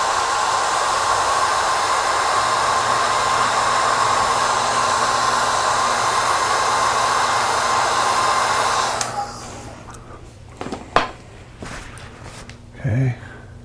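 A hair dryer dries a watercolor painting, making a loud, steady whooshing roar close by for about nine seconds. Then it cuts off, leaving quiet with a few soft handling sounds and brief noises.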